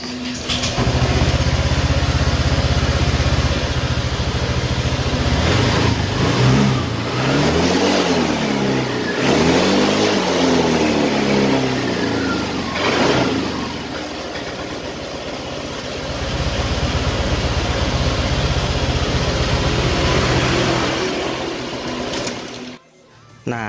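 A vehicle engine is revved with the throttle while its rear wheel spins, giving a loud, continuous close-up drone that rises and falls in pitch before cutting off abruptly near the end.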